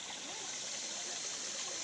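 A clean mountain stream flowing with a soft, steady rushing and light trickling, faint and continuous with no voices.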